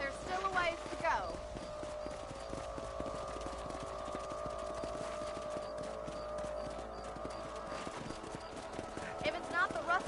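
Horse hooves clip-clop steadily in a Western-style video game, a continuous plodding rhythm running under music and game sounds.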